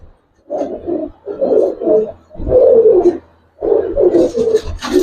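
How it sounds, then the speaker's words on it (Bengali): A pair of large collared pigeons, a male and a female, coo close by in repeated throaty bursts with short pauses between, ending in a brief rustling noise. "দুইটাই বড় কলার কবুতর"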